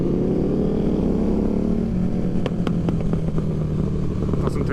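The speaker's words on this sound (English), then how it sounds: "That's my bike, you can hear." A KTM motorcycle, one of a 1390, 1290 or Tuono V4, drones steadily with a low engine tone while being ridden, with several sharp pops or crackles layered over the continuous rumble toward the end.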